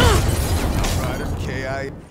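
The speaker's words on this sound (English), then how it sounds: "Grenade" Grenade blast in the shooter game Black Ops 3, a loud close burst with a rumbling tail that fades out over about two seconds, with game voices over it.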